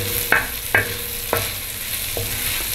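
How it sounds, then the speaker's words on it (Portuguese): Chopped calabresa sausage fries in a pan on an arado disc, a steady sizzle marked by four distinct clinks of a spoon stirring against the metal, close and clear with no voices. "Agora vou mexer até a calabresa dar uma pré-fritada."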